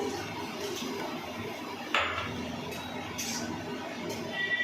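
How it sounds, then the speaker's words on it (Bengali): A spoon stirs a vegetarian stuffed pointed gourd curry in a pot with a low, steady scraping. A single sharp clink of metal on the pot stands out midway over a quiet kitchen hum. "ভালো করে নাড়বো, আর একটু জল দেবো"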